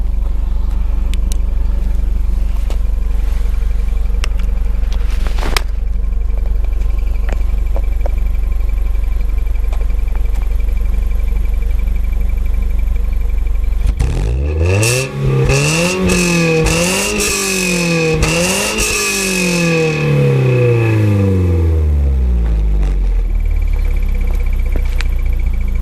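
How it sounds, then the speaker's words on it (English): A 1999 Toyota Altezza RS200 Z Edition with a 2.0L engine and six-speed gearbox idles steadily, then is revved several times in quick succession, the engine note climbing and falling loudly before settling back to idle. "Okay, I'll give it a couple of revs."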